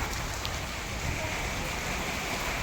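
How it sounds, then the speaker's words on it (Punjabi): Heavy rain pours down during a storm, making a steady, dense hiss that stays loud and even throughout, with no voices over it. "ਦੇਖੋ ਜੀ ਬਹੁਤ ਜ਼ਿਆਦਾ ਮੀਂਹ ਆ ਰਿਹਾ ਹੈਗਾ"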